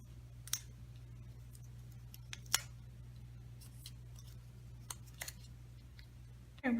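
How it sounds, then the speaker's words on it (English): Scissors snip through foam adhesive pieces for a handmade card, giving several sharp, separate clicks spaced irregularly over a quiet, hum-filled background, close and fairly faint. "Let's go ahead and cut 4 pieces and glue them to the back."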